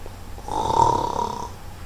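A single drawn-out snore, voiced by a person imitating a sleeping dog in a children's story, rising and fading over about a second at moderate loudness.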